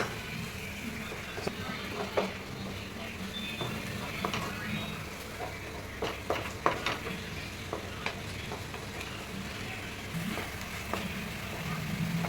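Tomato puree frying and being stirred in a pan for a milk chicken dish, with a steady low sizzle and intermittent scraping stirring clicks close by, no talk.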